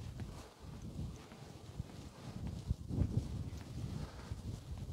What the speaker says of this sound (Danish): det blæser lidt her